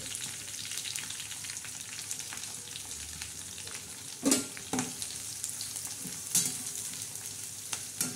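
Dried shrimp (sukat) frying with eggplant and potato in a pan, a continuous close sizzle with a few sharp utensil scrapes and knocks as it is stirred.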